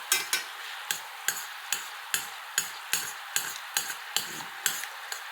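Hot bacon grease, sugar and vinegar dressing bubbles at a boil in a pan for wilted lettuce, a steady sizzle broken by regular sharp pops or taps about twice a second, close and moderately loud.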